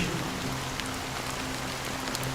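Rain in the video game Honkai Star Rail falls in a steady, even hiss of drops across the clip, with a low sustained tone humming underneath.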